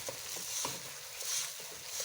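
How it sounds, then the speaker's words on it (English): Rice being stirred into a pot of chicken pilau with potatoes, giving a soft, steady sizzle with scattered light scraping and patter, fairly quiet and without talk. "My 2 cups of rice, and stir that in."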